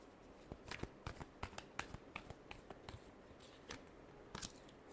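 Tarot cards are shuffled close up: a quiet run of soft, irregular flicks and snaps as the deck is cut and riffled, with no talking.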